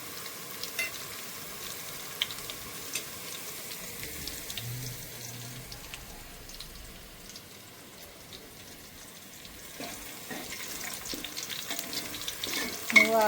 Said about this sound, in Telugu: ఇంకా కొంచెం ఫ్రై కావాలి.